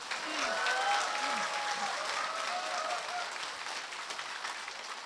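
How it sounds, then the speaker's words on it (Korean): Applause from a crowd at a political party gathering, cheering on its members, swells early and then settles into sustained, moderately distant clapping, with a faint voice briefly audible beneath it. "국가혁명 배당금당 당원 여러분에게 격려의 박수 부탁드리겠습니다"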